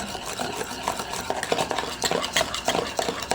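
Egg whites mixed with a little oil being beaten briskly in a bowl for a dessert, rapid irregular clinks and scrapes of utensil against the bowl, close and busy throughout.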